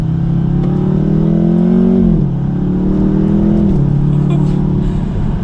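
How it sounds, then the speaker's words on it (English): A 2020 Jaguar F-Type Checkered Flag Edition with its sports exhaust engaged accelerates hard in second gear, the engine note climbing steadily and dipping briefly at shifts, loud and close inside the car with no talking. "I'm going to go ahead and put the sports exhaust on, and we'll see if there's a big difference with the sound comparison"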